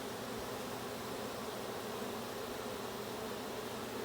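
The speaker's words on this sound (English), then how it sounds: "that's a lot of bees" A dense swarm of several thousand honeybees hums steadily around a hive as it is being installed, a continuous even buzz that stays fairly quiet and unbroken from start to finish.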